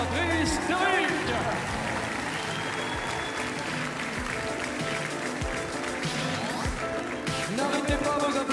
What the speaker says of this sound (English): N'arrêtez pas vos applaudissements de grâce